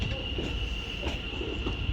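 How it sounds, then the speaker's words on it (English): A double-unit London Northwestern Railway Class 350 electric train rolls into Wolverhampton station with a steady rumble of wheels and a sustained high squeal from the rails, loud and close, with no talk. "as this double London North Western Railway Class 350 now arrives in"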